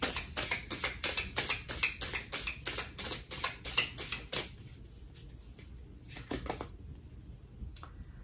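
Tarot cards are riffled and tapped in quick, crisp bursts of papery clicks that fall into a steady rhythm, then break off into a few scattered taps and soft slides as cards are drawn.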